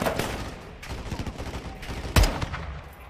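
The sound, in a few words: gunfire in Modern Warfare 2 video game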